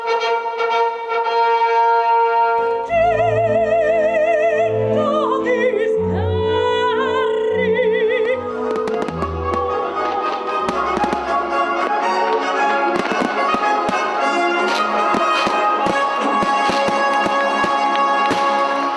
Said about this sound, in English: such as an open-air concert with fireworks.